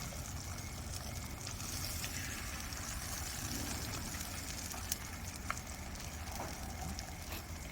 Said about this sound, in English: When you hear the sizzle, you know you're doing it right.